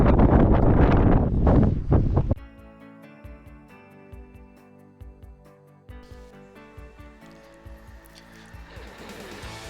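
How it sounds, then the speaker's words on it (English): Wind gusts hard on a mountain walk in the Ruahine range, heavy buffeting for the first couple of seconds before dropping away to a quieter background with a steady tonal layer. "the wind's quite choppy"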